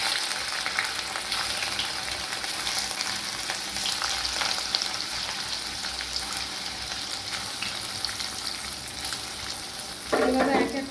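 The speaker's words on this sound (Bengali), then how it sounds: "পনিরগুলোকে আস্তে আস্তে তেলের মধ্যে দিয়ে ভেজে দিচ্ছি।" Paneer pieces sizzle and fry steadily in hot salted oil in a kadai, a continuous crackling hiss with occasional stirring and a brief louder splash near the end.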